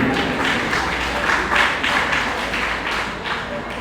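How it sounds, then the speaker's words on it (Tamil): An audience applauding at a mridangam debut recital: dense, continuous clapping from many hands that holds steady throughout, loud and filling the space. "இந்த பெற்றோர்களுக்காக நாங்கள் ஒரு தடவை கரகோஷம் செய்ய வேண்டும்"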